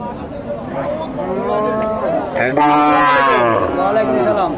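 Cattle moo loudly and repeatedly at the Dakumara cattle market, in long, drawn-out calls that overlap one another, close by, with no talking.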